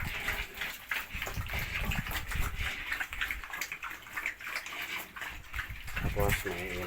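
Water trickles and splashes continuously from a pig drinker in a piggery housing F1 Large White pigs, faint and uneven, with a person talking over it throughout.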